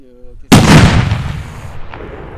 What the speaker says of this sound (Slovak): ďalej ideme ďalšiu petardu, Viper 12, 60 gramov, táto hádam už vybuchne